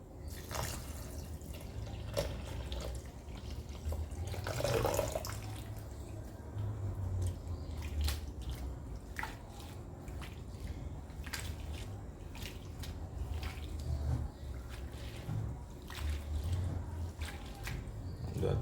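Callaloo leaves being washed by hand in salt water in a kitchen, with steady close drips, splashes and wet squishing sounds continuing throughout.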